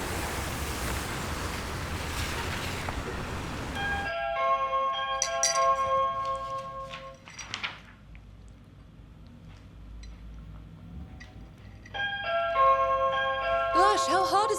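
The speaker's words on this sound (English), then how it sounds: "Can't you hear the bell?" A doorbell rings indoors in a home, several clear tonal chimes in bursts after a stretch of noisy background, with a repeated ring near the end.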